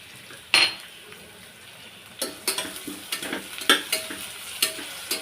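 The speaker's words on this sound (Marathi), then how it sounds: "कांदा आपल्याला पूर्ण लालसर होईसपर्यंत परतवून घ्यायचा आहे त्यामध्ये आपण जिरं टाकणार आहोत" Onions and cumin sautéing in a pressure cooker for chole pulao: a soft sizzle runs under sharp metal scrapes and clinks of a spoon stirring, close up, growing busier after a quiet start, with no talk.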